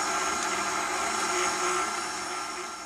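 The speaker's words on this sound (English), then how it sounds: "We just took it off of the stand mixer" Stand mixer whipping a bowl of marshmallow, a loud, steady whirring drone close by that eases off slightly at the end.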